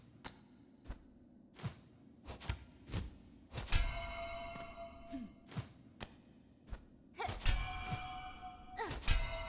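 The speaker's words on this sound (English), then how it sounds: "I like hitting the walls that sound like bells." In the video game Silksong, strikes against walls ring out as bell-like clangs, a string of sharp metallic hits spaced irregularly, some leaving long shimmering rings, over quiet game ambience.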